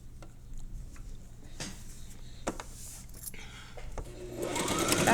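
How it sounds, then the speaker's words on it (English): A sewing machine stitches fabric strips at a quarter-inch seam for a quilt square, running as a quiet, steady mechanical hum with light ticks and clicks, close by, with no talk over it. "So we'll sew this up at 1/4 of an inch."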